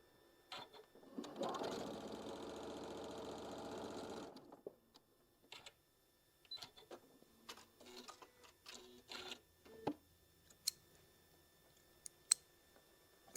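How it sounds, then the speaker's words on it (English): Sewing machine stitching a straight seam on a patriotic quilted table runner: one close, steady whirring burst of about three seconds, followed by scattered soft clicks and handling taps from the fabric and tools in a quiet room. "that's just a straight edge that you're going to be sewing right there"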